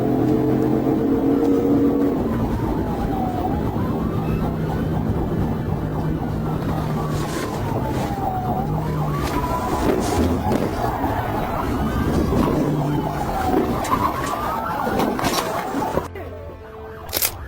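Police car siren wailing in repeated rising and falling sweeps during a high-speed chase, loud and sustained over heavy road and engine noise before cutting off abruptly near the end.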